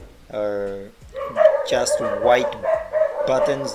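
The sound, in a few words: dog barking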